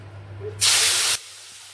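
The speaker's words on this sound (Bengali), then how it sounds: "এবার আমি এই চিংড়িটা ভেজে নেব" A loud burst of hissing sizzle as shrimp drop into hot oil, rising abruptly and holding for about half a second before cutting off.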